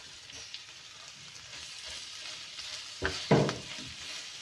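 Spices and aromatics frying in a pan for a mashed potato kachori filling, a steady soft sizzle with a couple of louder stirring scrapes near the end.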